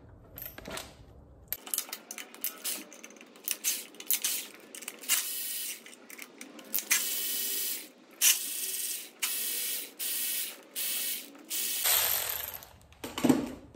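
Ratchet wrench loosening bolts on an Audi/VW 2.0T TFSI B8 engine during a teardown, heard as bursts of rapid clicking pawl ratcheting in a steady rhythm, close and fairly loud, with short pauses between pulls and no talk.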